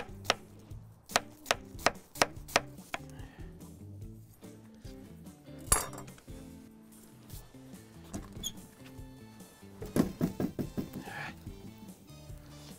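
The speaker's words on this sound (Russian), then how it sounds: "Осталось только лучок тонкими-тонкими полукольцами нарезать." A knife taps rhythmically against a cutting board while thinly slicing onion into half-rings, in quick bursts of sharp chops separated by pauses, close and clear.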